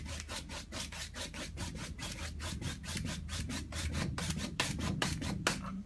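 Broad 1.5 inch brush sweeping acrylic paint across canvas for a damp-sand beach area, a steady run of rhythmic scratchy strokes, close and fairly loud, with no talk.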